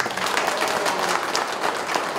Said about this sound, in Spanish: Y recibimos con fuerte voto de aplauso.